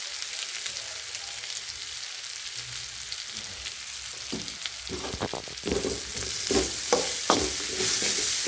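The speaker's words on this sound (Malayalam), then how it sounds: "ഒരല്പം കായപ്പൊടിയും കൂടെ ഇതിലേക്ക് ചേർത്ത് കൊടുക്കുക. അതിന് ശേഷം ഇതൊന്ന് മൂപ്പിച്ചെടുത്താൽ മാത്രം മതി." Koorkka, or Chinese potato, is stir-fried with asafoetida powder in a pan, a soft steady sizzle that grows as a spatula scrapes and tosses the pieces in a quick, uneven rhythm close by.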